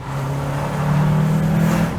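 A Honda Accord Euro engine revs with a steady, droning exhaust note that swells slightly louder midway and holds, close and strong with no talk.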